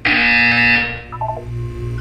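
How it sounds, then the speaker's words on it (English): A loud, harsh buzzer from the video game Portal 2 blares steadily for about a second, then falls away into quieter, wavering electronic tones. "You will hear a buzzer. When you hear the buzzer,"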